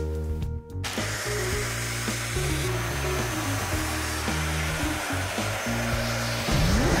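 A Dyson vacuum cleaner runs close by with a steady, high-pitched motor whine whose tone shifts as it works, continuing for several seconds with no talking.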